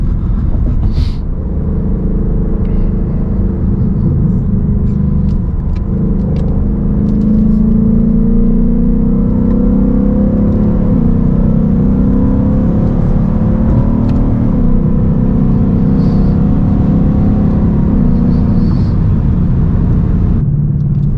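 A Ford Mustang S550 engine in sport mode accelerates as a loud, steady rumble heard from inside the cabin, its tone rising through a gear, then dropping back and climbing again over about twenty seconds, with no voices.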